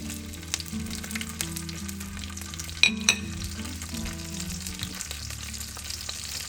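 Dry red chillies and chopped garlic fry in hot oil, a continuous close sizzle and crackle with a few sharp pops midway, no talking.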